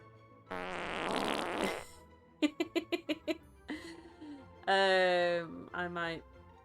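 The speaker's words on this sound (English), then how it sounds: "comes in with a fart" A video game fart sound, a long buzzy blast followed by a quick run of short popping bursts, loud and close, with a voice and laughter breaking in afterward.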